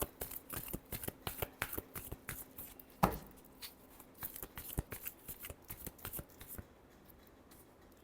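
A deck of tarot cards being shuffled by hand, close and fairly quiet: a rapid run of crisp riffling flicks with one sharper slap near the middle, then fading to near silence at the end.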